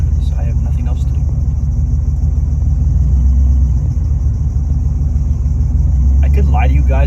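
A truck engine runs with a deep, steady rumble that fills the whole stretch, with brief faint voices near the start and end.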